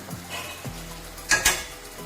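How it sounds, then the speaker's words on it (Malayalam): Chicken with coriander powder and chicken masala is stirred in a pan, giving a few soft scrapes and two sharp metallic clinks of a spoon against the pan over a faint sizzle. "ഇനി നന്നായിട്ട് ഇളക്കി കൊടുക്കാം കേട്ടോ"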